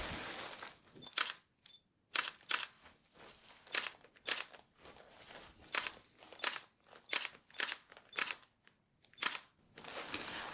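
A camera shutter clicks during a cosy ASMR photography session, firing about fifteen crisp, close clicks, some single and some in quick pairs, with near silence between them.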